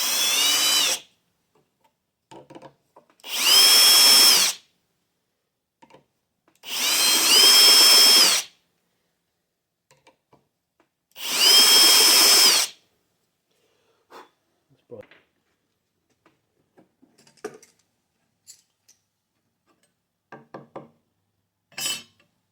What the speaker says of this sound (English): I'm also going to give it a little countersink.